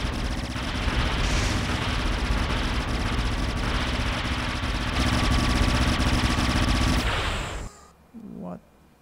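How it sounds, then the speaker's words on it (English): Gunfire aimed at enemies in the indie game Rival Rebels, a loud continuous rattle of rapid shots over an engine-like drone for about eight seconds before cutting out abruptly. "let's shoot at them"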